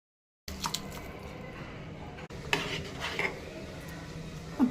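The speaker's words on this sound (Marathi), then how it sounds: "तर पाण्यालाही उकळी आलेली आहे। आपण यामध्ये आता तांदूळ ॲड करूया।" Rice for jeera rice goes into a pot of boiling water, with close metallic clinks of a pot and utensil, a soft splash and a low simmering rumble underneath.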